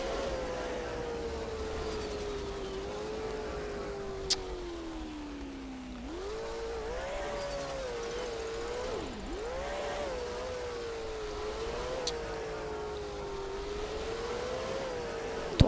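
A car engine in a Roblox driving game drones steadily and rises and dips in pitch as it accelerates, with a few faint clicks and no one talking over it.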